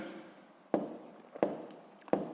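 A pen scratches three separate strokes onto paper during a sixth-grade maths exercise, each a short, soft scrape with a sharp onset, spaced under a second apart and close up, with quiet room tone between.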